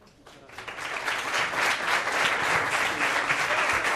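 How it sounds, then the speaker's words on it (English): A large crowd of young people at a World Youth Day gathering in Lisbon bursts into applause, the clapping swelling over the first second and then staying loud and dense with a lively, crowded texture. "those who are here now are expressing their applause."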